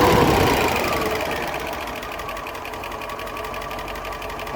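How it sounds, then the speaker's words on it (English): A 1972 Range Rover engine idling too low, below 700 rpm, a steady rapid mechanical chatter that eases slightly after a louder start, heard close with no talking. "I've got idle speed running at below 700 now, so that's too low"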